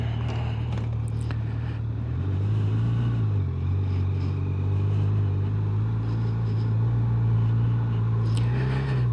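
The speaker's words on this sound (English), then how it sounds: "I'll give you a quick rev, let you hear it" A 2025 Kawasaki Z900 motorcycle idles nearby, then its engine revs up and settles back down, with a brief second blip near the end, all without any talking.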